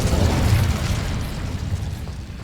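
Incendio fire spell cast in the Hogwarts Legacy video game, a loud sustained whooshing, rumbling burst of flame with a heavy low roar that gradually thins out over a couple of seconds, with no voices.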